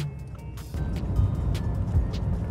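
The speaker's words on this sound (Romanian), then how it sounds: "acele turbine parcă zbiară și te îndeamnă" A Bugatti Chiron with its turbocharged engine drives on a rough road in traffic, giving a deep, steady roar that grows louder partway through and holds, with no talking.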